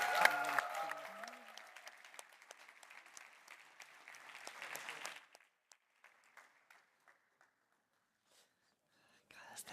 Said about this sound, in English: a huge round of applause for our panelists